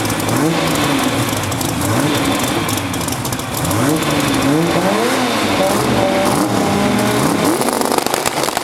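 A Mustang and a Nissan drag race side by side at Grand Bend Motorplex, their engines roaring loud and continuous with rising and falling revs through the full run.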